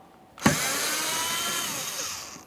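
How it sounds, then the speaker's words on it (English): A power screwdriver backs out a Phillips head screw from a rear door bracket on a 2015-2019 Subaru Outback: a sudden start followed by a steady, close whir that runs to the end. "We have two Phillips head screws and we can remove this bracket."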